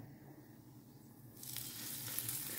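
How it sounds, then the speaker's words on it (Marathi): Semolina-coated food fries in oil, a faint low crackle that swells into a brighter, hissing sizzle partway through and holds steady to the end. "रवो लावून ताका फ्राय करात"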